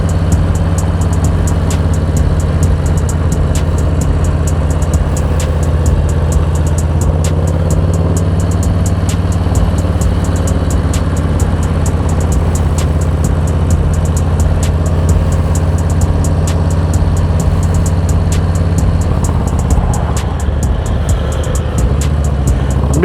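A 2024 Harley-Davidson Low Rider S motorcycle engine rumbles with a deep, steady growl while riding, engine note shifting slightly near the end over constant road and wind noise.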